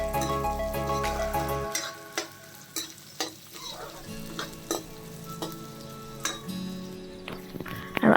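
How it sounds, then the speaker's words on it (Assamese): Chopped onions sizzle in hot oil in a pan, a close, steady crackle broken by repeated knocks and scrapes of a spoon stirring against the metal, with no voices. "পিঁয়াজখিনিও মই অকণমান ৰঙচুৱা হোৱালৈকে ভাজিম"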